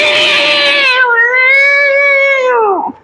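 A man vocally imitates cats fighting at night, giving one loud, sustained caterwauling yowl that wavers in pitch, rises and falls, and then drops away abruptly at the end, heard alone with no talk.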